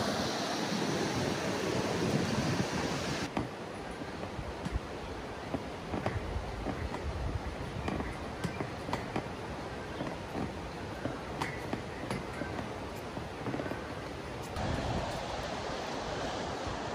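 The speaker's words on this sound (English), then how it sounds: "This is Woods Creek." Woods Creek in Sequoia Kings Canyon National Park rushes past, a loud, constant broadband roar of flowing water that stays steady throughout with no voices.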